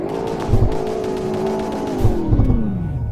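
A hot hatchback engine revs hard with a rising, then falling whine, punctuated by sharp pops and burbles, loud and close.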